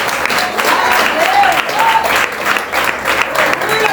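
A church congregation applauds in praise, loud sustained clapping from many people that fills the space, with faint voices calling out beneath it.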